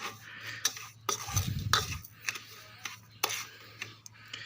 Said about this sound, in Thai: คนคนคนคนแบบนี้เข้ากัน